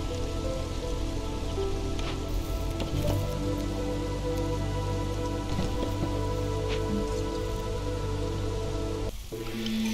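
Drizzle rain ambience in the video game Against the Storm, a steady loud patter of rain on surfaces that fills the whole stretch, with faint game tones under it.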